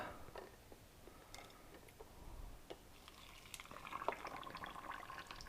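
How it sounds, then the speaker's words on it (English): Boiling water is poured into jars of ground beef and sausage for canning, giving a faint, soft trickling and bubbling with scattered light clinks, slightly louder toward the end. "next I got boiling water, and I'm going to go ahead and fill these up to 1 inch from the top"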